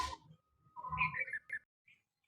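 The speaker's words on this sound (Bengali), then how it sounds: "ছাদে এসে ভয়েস দেওয়ার জন্য কত সুন্দর পাখিগুলো ডাকছে" Birds call outdoors on a rooftop: a few clear, chirping whistled notes in short bursts, moderately close, with brief pauses and no talking.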